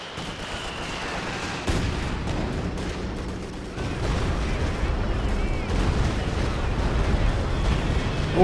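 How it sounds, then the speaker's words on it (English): Stuka dive-bomber barrage in Company of Heroes 2, heavy explosions rumbling in from about two seconds and growing denser and louder after four seconds, with someone commentating over the blasts. "Oh, pretty good Stuka barrage at that time."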